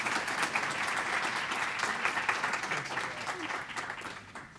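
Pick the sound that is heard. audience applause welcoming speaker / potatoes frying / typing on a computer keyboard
audience applause welcoming speaker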